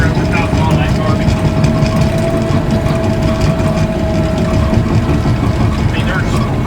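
A bulldozer clearing land runs steadily with a deep, continuous engine drone and rumble throughout, close and loud with no pauses.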